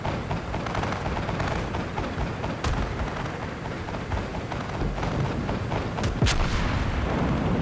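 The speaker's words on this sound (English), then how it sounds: "there goes some of the anti-aircraft" Rapid anti-aircraft guns blaze from a maneuverable cruiser in World of Warships, a dense continuous roar of gunfire with sharper cracks near the end, loud and steady throughout.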